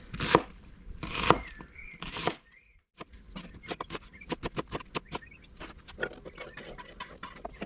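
Rapid knife chopping of onion on a cutting board, a steady run of sharp close taps, preceded by a few heavier thuds and rustles.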